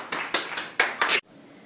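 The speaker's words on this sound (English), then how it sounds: "Let's give a round of applause" A few people clap in a short, sparse burst, about six distinct close claps at uneven intervals, ending abruptly and followed by quiet room tone.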